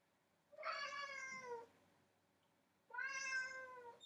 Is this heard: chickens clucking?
no